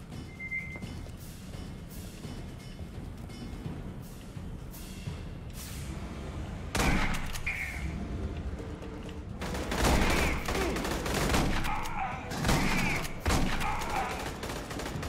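Scattered gunfire blasts in a video game, several loud booming shots spread across a busy, noisy battle soundscape with steady background rumble.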